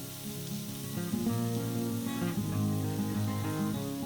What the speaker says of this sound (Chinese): 当你炒出那个香气之后，你就可以加入牛肉，稍微的给它煎一煎。